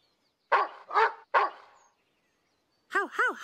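A voice imitates a dog's barking in the Polish dub of the Teletubbies children's show, with three close, loud woofs and then a quick higher yapping run after a pause.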